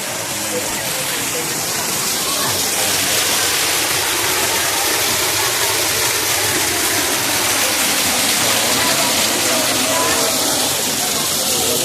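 Water at a hidden resort in Infanta, Quezon rushes and splashes in a dense, constant roar. It stays loud and close the whole time, and voices may sit faintly under the noise.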